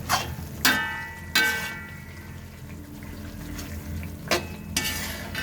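Prawn pickle simmering in a pan after asafoetida is added makes a steady low bubbling and sizzle at close range, broken by a few sharp metallic scrapes and clanks of a spoon against the pan.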